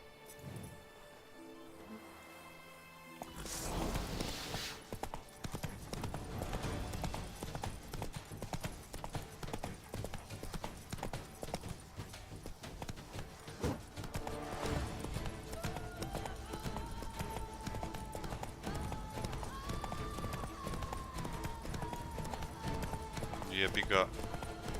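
Roach, Geralt's horse in The Witcher 3, trots with steady hoof clip-clops under game music. Louder galloping hoofbeats and movement sounds run through most of the stretch, and a voice talks over the scene at times.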